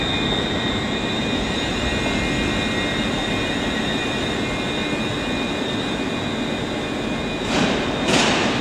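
A train idles at Glasgow Central station with a constant loud engine drone and a steady high whine, and two brief bursts of hiss or air near the end.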